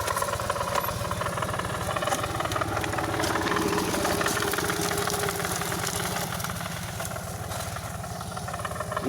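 A hand tractor engine runs steadily in the open while clearing brush and scrub, a loud, continuous mid-pitched chugging with a knocking, vibrating texture that holds without pause and no talking over it.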